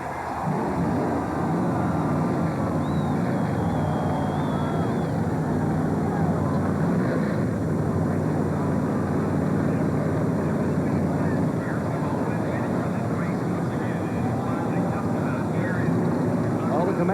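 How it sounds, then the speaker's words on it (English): A field of 43 NASCAR stock cars fires up at Bristol, a dense continuous engine roar with crowd and public-address voices layered over it, steady and loud throughout. "Gentlemen, start your engines."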